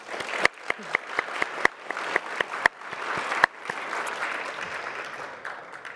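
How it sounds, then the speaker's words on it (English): Panel audience at an AI-in-law-and-finance event claps, starting with distinct separate hand claps in an uneven rhythm that swell into a fuller, softer wash of applause before tapering off. "Let's give our panel one more round of applause, please."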